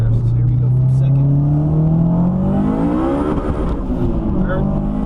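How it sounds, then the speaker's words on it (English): A small 460 hp turbocharged car with an open dump tube accelerates hard from second gear, its engine note climbing steadily and loudly, with turbo whistle and blow-off hiss on top as it pulls. "Being able to hear all the turbo sounds, the whistles, the blow-off valve, the freaking open dump tube."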